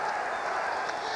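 Large football stadium crowd roaring and chanting during an NFL Saints–Giants game, a dense, sustained wall of voices and cheering that stays loud and steady throughout.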